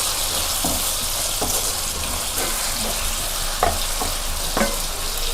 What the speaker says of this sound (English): We should fry nicely in the oil for 30 to 40 seconds.